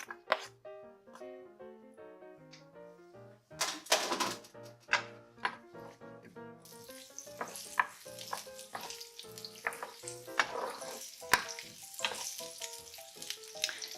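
Onions frying in a pan for pesto alla calabrese, a soft crackling sizzle rising midway and continuing under prominent background music, with scattered clatters.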